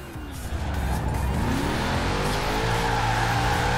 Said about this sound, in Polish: Że ten samochód dobrze driftuje.